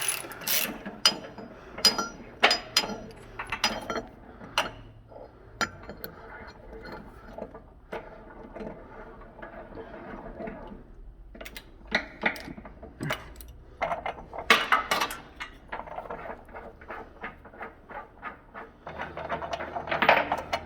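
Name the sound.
unscrewing jib retaining pin screw from threaded block on Igo crane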